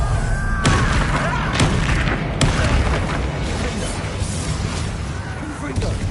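A Bombarda blasting spell explodes in the Hogwarts Legacy video game, heard as a dense, loud, sustained rumble with several sharp bursts over roughly six seconds, the booming blasts dominating throughout.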